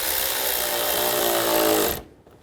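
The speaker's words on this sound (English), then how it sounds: "We'll tighten this worm clamp down." A power tool runs loud and steady for about two seconds while tightening a worm clamp on the breather hose of a 2011–2014 Chrysler 200 during a radiator cooling fan replacement, then cuts off abruptly into quiet.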